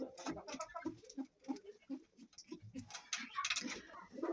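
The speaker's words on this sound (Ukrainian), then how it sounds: "А ну, голуби, ходіть." Pigeons coo and flutter nearby, with soft pattering and a voice speaking intermittently over the calls.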